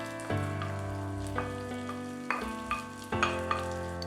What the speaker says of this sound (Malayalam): ഇനി നമുക്കതിലേക്ക് ചെറിയ 2 സവാള കുഞ്ഞായിട്ട് നുറുക്കിയത് ആഡ് ചെയ്യാം